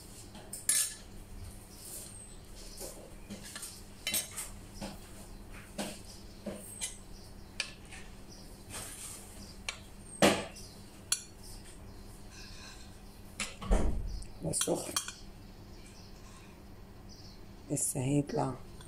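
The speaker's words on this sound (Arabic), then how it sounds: "خلصنا المحشي وهنرصه دلوقتي في البايركس" Stuffed vegetables (mahshi), including peppers, are arranged one by one in a Pyrex glass dish, with faint scattered clinks and taps on the glass and a louder knock near the middle, under quiet talking.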